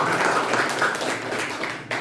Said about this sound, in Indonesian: Tepuk dulu.